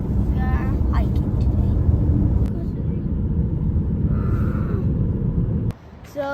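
Steady low road rumble and engine hum from inside a moving car on the way to a hiking trail near Vantaankoski, continuous and fairly loud, with a voice speaking over it before the noise suddenly drops near the end.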